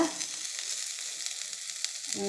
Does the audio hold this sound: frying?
yes